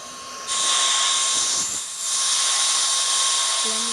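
An A320's landing gear lowers in a flight simulator game during a cloudy approach to the airport, as a steady rushing, whining roar swells abruptly, dips briefly, then holds loud and continuous.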